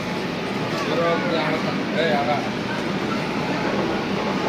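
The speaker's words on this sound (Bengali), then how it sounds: "যাতে তোমাদের ভিডিওতে আবার ট্রেনটা ছাড়া দেখাতে পারি পুরো" A metro train departs Howrah's underwater metro station, giving a steady, close rumble of rolling carriages that swells slightly midway, with voices murmuring in the background.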